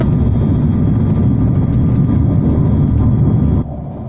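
Airliner cabin during landing on a flight from Suva, Fiji to Tuvalu: a loud, steady low engine roar and whir fills the cabin, then drops sharply in level near the end.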